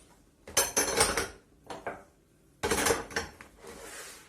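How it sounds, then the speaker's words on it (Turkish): Metal stove grates clank and scrape as they are set down one after another into a deep container, in two loud bursts of rattling metal with short pauses between. "öncelikle ocak demirlerimizi e, derin bir kabın içerisine yerleştiriyoruz"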